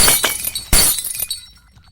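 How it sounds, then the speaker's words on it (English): Window glass shatters in a dramatized audio story, with a sharp crash followed by a second louder burst and tinkling fragments that fade away. "she screamed so loud that the window shattered and some of the light bulbs exploded"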